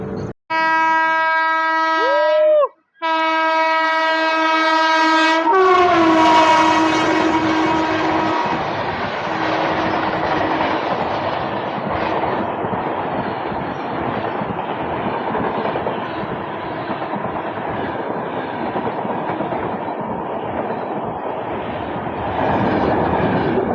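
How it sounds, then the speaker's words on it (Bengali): A Shalimar–MGR Chennai Central superfast train overtakes at Haldipara station while another train stands waiting. It opens with a loud, sustained multi-tone horn, then a heavy roaring rush and rattle of wagons sweeping past close by. "Shalimar MGR Chennai central superfast আমাদেরকে ওভারটেক করবে।"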